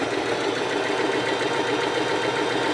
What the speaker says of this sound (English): So I'm going to go ahead and start sewing.